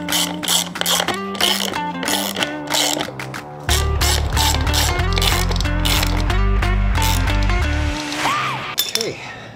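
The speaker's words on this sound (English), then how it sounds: "we're going to take our lag bolts and we're going to secure it in place. And for this, you're going to need a 1/2 inch socket." A ratchet fitted with a 1/2 inch socket drives lag bolts while building a DIY door hanger for a Jeep Wrangler. Bursts of rapid clicking repeat over steady background music, close and fairly loud.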